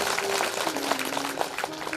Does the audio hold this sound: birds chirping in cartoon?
no